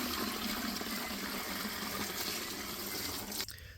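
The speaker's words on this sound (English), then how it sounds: "So let me get this bucket filled back up with water and we'll crack on." Water gushes steadily from a tap into a bucket during gold prospecting, a loud, continuous rushing fill that runs for several seconds and then cuts off abruptly, with no talking.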